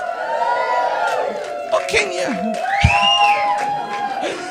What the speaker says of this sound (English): That, by the way, is my favourite round of applause.